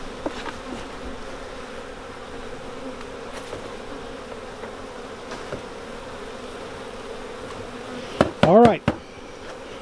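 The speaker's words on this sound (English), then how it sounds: "I'm trying to get these bees out." Honey bees buzz steadily while a colony of about forty thousand is moved into a new hive, a soft, constant hum with a few sharper close fly-bys near the end and a brief voice.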